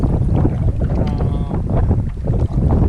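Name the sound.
wind blowing on microphone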